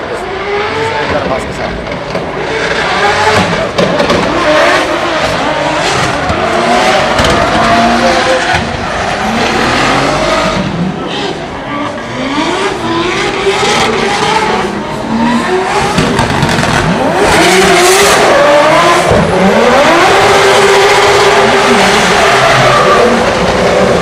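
A yellow Nissan S13 drift car's engine roars and stutters unevenly, sounding unhealthy, with tire squeal and motorsport noise throughout at Drift Masters practice in Ireland, and a voice talks over it.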